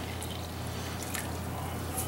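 Filtered water is poured into a bowl for whole wheat bread dough, making a soft, continuous trickle and splash with a few faint drips, close by and without speech.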